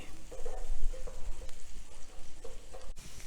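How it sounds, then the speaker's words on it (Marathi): Egg bhurji frying in a pan is stirred with a spatula, producing repeated scraping strokes over a steady low sizzle, close and fairly loud in uneven rhythm. "आता आपण ही भुर्जी एकसारखी करून चांगली हलवून घ्यायची"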